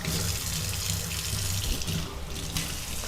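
Tap water runs steadily into a sink during face washing, a close, even splashing stream with no voices over it.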